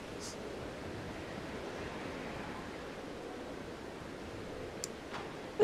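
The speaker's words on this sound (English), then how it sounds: "water wheel puzzle." A water wheel runs in the ICO video game, heard as a steady, soft rush of flowing water with even, faint ambience throughout and a brief sharp tick near the end.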